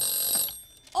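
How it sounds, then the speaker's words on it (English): A kitchen timer rings with a bright, steady electronic tone that cuts off partway through, followed by a brief rising voice-like sound at the end, heard close in a home kitchen. "Oh, that's our kitchen timer."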